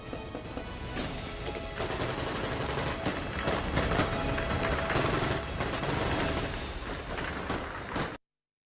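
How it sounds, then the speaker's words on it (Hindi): Loud, dense gunfire crackles continuously for about eight seconds in rapid overlapping bursts at a protest in Kabul, then cuts off abruptly. "ये गोलियों की तड़तड़ाहट लोगों की आवाज के खिलाफ थी।"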